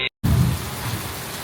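Steady rain falls outdoors as a dense, even hiss that sets in after a brief cutoff and keeps on at a fairly loud, unbroken level.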